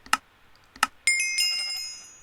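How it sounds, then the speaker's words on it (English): Two short sheep bleats from Minecraft, spaced apart and fairly close, followed by a sustained bright chiming game tone. "There's loads of sheep."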